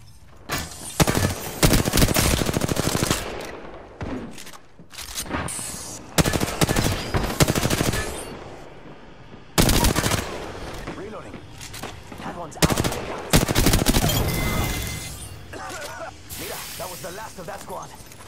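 Loud bursts of rapid gunfire in a video game firefight, several volleys separated by short pauses, with automated voice callouts heard between the shots.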